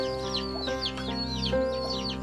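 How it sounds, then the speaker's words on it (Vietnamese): Chickens clucking near a quiet, isolated rural house, with repeated close, loud clucks and calls in an uneven rhythm throughout. "Đây thì cũng nhìn thấy là có mấy con gà này"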